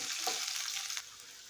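Green chillies, dried red chillies, curry leaves and tempering seeds fry in oil over medium heat for mango pulihora, producing a soft, steady sizzle with a few light crackles.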